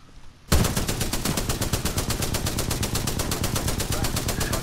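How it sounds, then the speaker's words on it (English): The Spitfire light machine gun in Titanfall 2 opens up after a brief quiet moment, a loud, rapid, unbroken stream of evenly spaced shots close by, with no talk over it. "Spitfire! Ooh, yeah, we like that gun."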